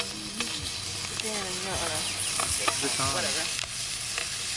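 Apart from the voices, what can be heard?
bacon and eggs frying while camping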